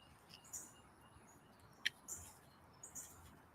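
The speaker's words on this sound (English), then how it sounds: "Only thing I hear is fucking birds and shit." Birds chirp outside in a few faint, brief calls spaced a second or so apart over a quiet, steady background hiss, distant and soft.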